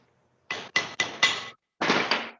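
Metal sheet being struck with a hammer during fold forming, the center of the fold beaten tight: four sharp, close, loud blows in quick succession, a brief pause, then a longer burst of ringing strikes.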